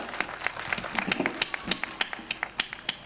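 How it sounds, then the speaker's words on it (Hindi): Audience at a Hindi comic poetry show claps in a fairly sparse, rhythmic patter of distinct individual claps, moderately loud and close, with no talk over it. "इम्यूनिटी वाली तालियां बजाइए एक बार जोरदार, यहां से वहां तक"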